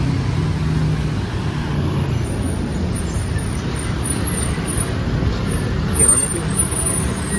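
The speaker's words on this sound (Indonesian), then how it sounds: "Ini kita mau naik bis yang ke arah ke Undip ya." Steady low rumble of a city bus engine and road noise from inside the moving bus, a continuous drone at even loudness with a faint hiss above it and a brief clatter near the end.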